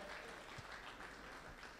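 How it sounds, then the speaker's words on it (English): Applause from a crowd at a men's awards dinner: steady, distant-sounding clapping that fills the room evenly, with a voice faintly underneath. "So a round of applause for each and every one of you."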